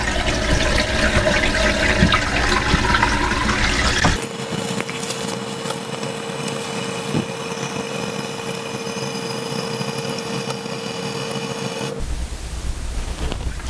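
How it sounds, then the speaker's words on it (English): A toilet tank refills with water after a new flapper is fitted, giving a steady hissing rush of water that runs on for several seconds with a faint whine, then drops away near the end, close by and with no talk. "let's turn the water supply back on now, and we'll watch it fill up"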